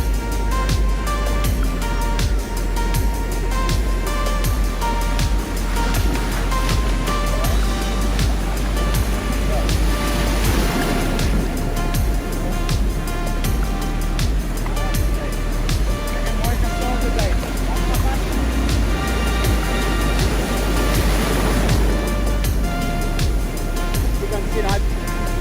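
Waves wash in near the shoreline at the water's edge, a continuous hissing surf with two louder swells, heard steadily beneath someone talking.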